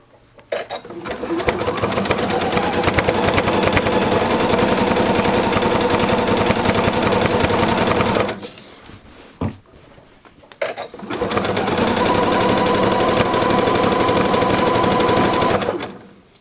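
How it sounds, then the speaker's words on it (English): A sewing machine stitches a jelly roll rug in a loud continuous whir, running for about eight seconds, pausing briefly with soft handling noises, then starting up again for several more seconds. "So I'm going to keep sewing and go all the way down and around"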